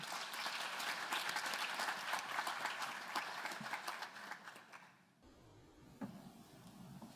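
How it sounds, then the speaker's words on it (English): An audience at an environmental talk applauds to welcome speakers, a dense, steady clapping that holds for about five seconds before cutting off abruptly into a quieter room with faint movement. "So I'm asking you to welcome them with a round of applause"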